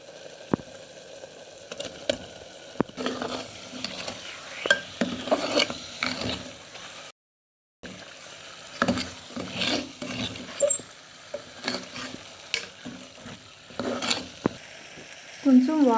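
Chicken masala and chili powder fry in oil for a pressure-cooker chicken curry, giving a soft, steady sizzle broken by frequent scraping and clattering strokes from stirring. One brief silent gap falls midway.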